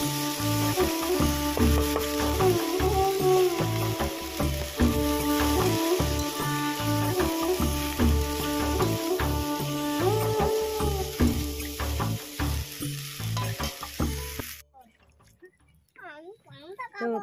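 Potatoes sizzling as they fry in a pan, a steady hiss mixed under loud rhythmic music for most of the stretch before the music drops away near the end.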